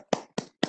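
Hand clapping for panelists at a virtual women's chartered accountants conference: three sharp, close claps spaced evenly about a quarter second apart, with silence in between and no voices.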